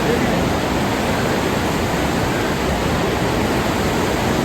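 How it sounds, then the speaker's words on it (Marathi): Loud, continuous rush of a flowing river beneath a bridge in Turtuk, Ladakh, a dense steady roar with no breaks or voices. "आणि खळखळून वाहणारी नदी बघा"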